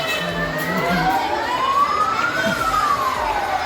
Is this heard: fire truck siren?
yes